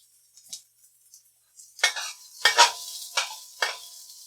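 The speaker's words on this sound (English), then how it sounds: "We're going to turn the heat down just a little bit and fry our aromatics." Garlic and ginger aromatics fry in a hot wok over lowered heat, heard as short bursts of sizzle with scraping stir strokes, starting faint and growing louder in several close separate pulses.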